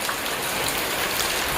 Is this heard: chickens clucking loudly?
no